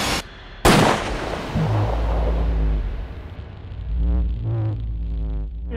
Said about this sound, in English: when I got close to Chris, I heard a gunshot